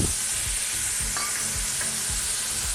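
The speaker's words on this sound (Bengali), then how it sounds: "এবার একটুখানি নেড়ে নিয়ে" Jaggery and tamarind pulp stirred in a hot pan, a loud continuous sizzle with a regular scraping rhythm of the spoon pushing through the mixture.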